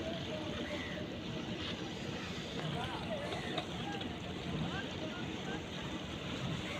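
A fishing trawler on the Padma river, broken down and carrying fish, gives a steady, rough wash of engine and water noise mixed with wind buffeting the microphone, with voices faint in the background throughout.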